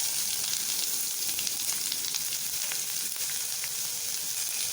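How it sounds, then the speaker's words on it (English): Chopped onion frying in oil with asafoetida gives a steady, dense sizzle with faint crackles, continuous and fairly close with no voices. "into this I'll put in the chopped onion"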